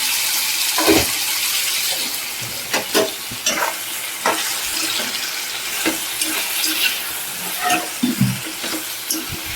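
Capsicum (bell pepper) sizzling and frying in oil in a home kitchen, a steady close sizzle broken by repeated stirring scrapes and clatters throughout, with no talking.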